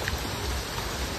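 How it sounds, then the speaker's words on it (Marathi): Rain falling outdoors during an Anant Chaturthi Ganesh immersion procession: a steady, even broadband hiss that fills the whole short stretch, with no talking. "ढग भरलेलं नाही पण पाऊस पडतोय."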